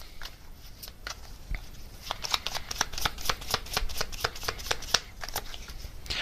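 Tarot message cards being shuffled by hand, a rapid run of crisp riffling slaps and flicks close to the listener, uneven in rhythm and heard alone without talk.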